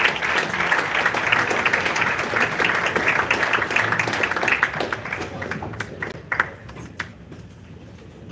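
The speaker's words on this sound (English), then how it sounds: "we'll give the guys a round of applause" An audience at a Bitcoin conference applauds as panelists come up onto the stage, a steady burst of clapping that thins out into scattered claps toward the end.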